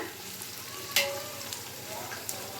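Onions fry in a pan for Hyderabadi biryani, giving a steady close sizzle. One sharp clatter of stirring stands out early, followed by a couple of softer knocks.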